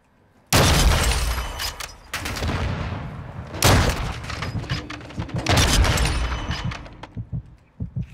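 Sniper rifle gunfire in a shooter video game: loud, dense bursts of shots and booms that run almost without a break for several seconds, with no speech.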